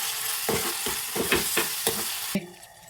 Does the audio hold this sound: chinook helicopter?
no